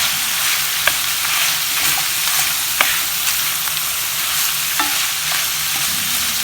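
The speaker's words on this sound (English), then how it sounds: "we're just going to stir this until they get a little bit of a softening" Red and yellow peppers fry in a pan with a steady broadband sizzle, broken by several sharp clicks and scrapes as they are stirred, no voices.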